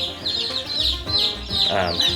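Chickens cluck and chatter nearby in a steady busy flock, soft overlapping calls with a brief louder squawk near the end.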